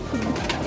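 A pigeon coos softly amid a constant background hum, one low brief call rising out of the noise.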